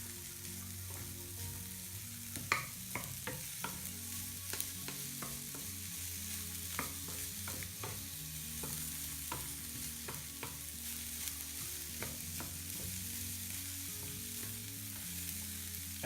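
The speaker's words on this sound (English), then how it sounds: "Once you yeet it in your onion, you want to go ahead and just start mixing it all together." Bacon and onion fry in a pan for an omelette while being stirred, with scattered utensil clicks and scrapes over a continuous soft sizzle and a low background hum.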